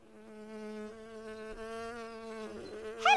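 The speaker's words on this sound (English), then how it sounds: "Hello, Buzzy Bee." A cartoon bee buzzes in a steady, wavering drone for about three seconds, close and fairly loud, ending in a brief higher flourish.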